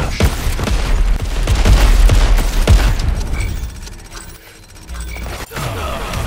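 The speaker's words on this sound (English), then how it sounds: "All right, we're gonna go for the rocket launcher." Heavy booms and crackling blasts from rocket launcher fire in a video game, loud and continuous at first, then easing into lighter mechanical clatter and a few distant hits.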